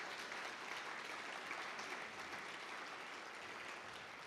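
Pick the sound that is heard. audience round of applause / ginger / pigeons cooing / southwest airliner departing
audience round of applause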